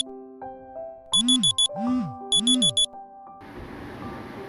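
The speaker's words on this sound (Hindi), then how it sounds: "अलार्म बजने के बाद में फिर मैं उठा" A digital alarm clock rings with repeated bursts of sharp electronic beeps, loud and close in a quiet room, in a morning routine setting.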